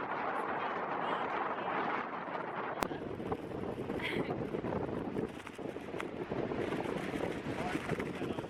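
Strong wind at Old Hunstanton Beach roars and buffets the microphone without a break, a loud, rough rush that swells and dips slightly over the whole stretch.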